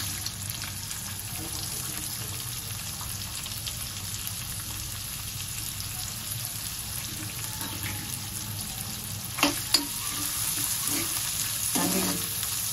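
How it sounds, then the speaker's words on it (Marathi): Two medium chopped onions fry in a pan for brinjal bharta in green thecha, giving a steady close sizzle with light stirring. A few sharper scrapes and knocks come near the end, and no one speaks. "आणि आपण यामध्ये 2 मध्यम आकाराचे कांदे मी चिरून घेते ते घालूया।"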